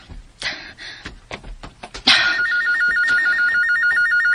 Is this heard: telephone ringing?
yes